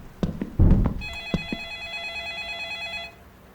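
A telephone rings in the horror video game Light Switch, a steady electronic trill lasting about two seconds and cutting off abruptly, following a few sharp thumps and knocks.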